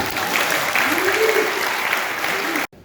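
A church congregation claps and cheers in a sustained, dense burst of applause for the Lord, with some voices rising through it, ending abruptly.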